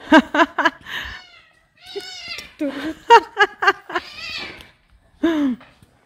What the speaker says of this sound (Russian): Вот, сейчас будет с котом борьба.